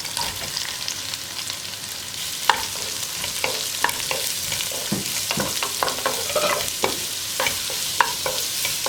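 Onions tossed and stirred into cauliflower masala frying in a pan, a steady loud sizzle with frequent scraping and clacking utensil strokes throughout, close up and with no voices.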